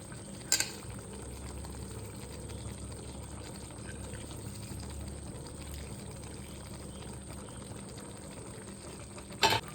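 Chopped onions go into a simmering chicken roast curry, a faint, steady low bubbling and soft stirring hiss, broken by two brief clinks of a utensil against the pan near the start and end.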